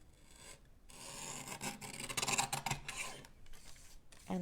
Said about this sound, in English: I'm just going to bring in my paper trimmer and trim off the excess